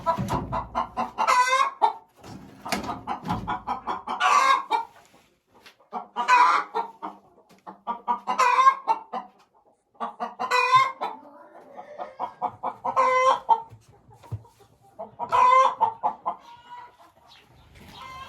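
Silkie hens clucking close by in repeated bursts, soft drawn-out clucks and rising squawks separated by short quiet gaps.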